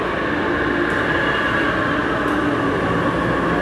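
A Panama City metro train pulls into a station, a loud steady rumble and hiss filling the whole stretch without pause, close by.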